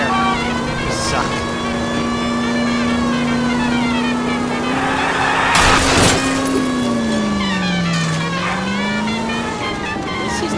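A car engine drones steadily with pitch shifts in L.A. Noire, a sharp crash burst partway through, loud and close, with game music or tones layered over it.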